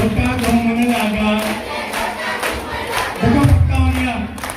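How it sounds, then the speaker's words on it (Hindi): A crowd claps with hands raised in a rhythmic beat, mixed with loud shouting and chanting voices that swell and carry throughout. "हाथ उठा के ताली बजा के"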